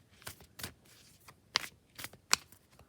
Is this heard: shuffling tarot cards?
yes